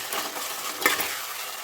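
Tomato curry with meal maker chunks frying in oil in a pan, giving a soft continuous sizzle with a faint stir partway through, with no voices.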